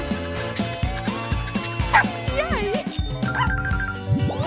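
A dog lets out a run of short yips and whimpering barks in a home grooming setting, close and fairly loud, with jingling tags and a voice speaking over parts of it.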